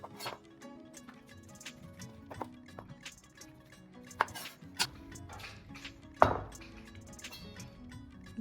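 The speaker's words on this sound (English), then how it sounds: "Then roughly chop each segment and transfer the orange in a bowl together with the juices it releases while cutting it." Knife chopping orange segments on a cutting board for a fruit salad, producing scattered irregular taps and knocks with a few sharper clacks, close and fairly quiet.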